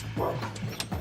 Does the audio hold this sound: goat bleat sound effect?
no